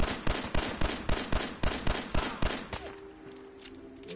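Rapid gunfire in the video game Fallout 4, a steady run of sharp, loud shots about four per second, then a sudden stop leaving a faint ambient hum.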